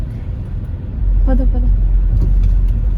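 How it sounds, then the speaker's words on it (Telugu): Heavy traffic jam of cars after a fireworks celebration, a steady low engine rumble up close, with people talking over it. "చూసి కార్లు చూడు, ట్రాఫిక్ అయితే మొత్తం బ్లాక్ అయిపోయింది"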